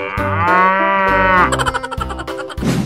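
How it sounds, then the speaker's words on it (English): Cartoon cow in a basketball game with wild animals lets out a long, loud drawn-out moo, followed by jumbled game sound effects and chatter-like noises. "Cow"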